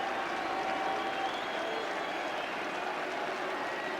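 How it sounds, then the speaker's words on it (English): Rugby crowd at Twickenham cheering and applauding as the Bath side takes the field for the 1985 cup final, a steady, distant roar of clapping filling the stadium. "And the big cheer for Roger Spurrell and the Bath side."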